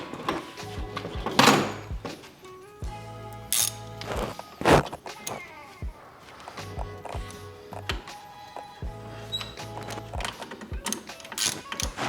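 Bolts being tightened on the red sprocket of a drift kart: repeated clicking ratchet strokes and metallic clanks in uneven bursts, close and clear, without talking.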